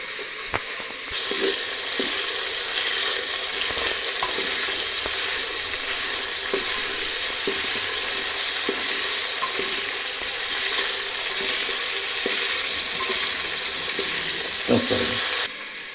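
Steady sizzling and frying of mutton curry in a clay pot with occasional scraping clicks of a spoon stirring, continuous and fairly loud throughout.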